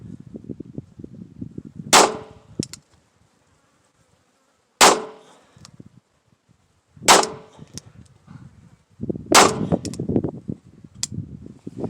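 A small belly gun fires four sharp shots from about 30 feet, spaced a few seconds apart. Each crack is loud and close, with muffled rustling and handling noise between the shots.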